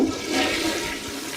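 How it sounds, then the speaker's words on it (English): A toilet flushes up close, a loud rushing swirl of water that fades slightly over a second and a half with no talking. "Time to flush the toilet."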